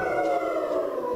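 Several voices imitate hounds howling together in a sustained, steady wail that holds at an even loudness throughout, with no talk over it.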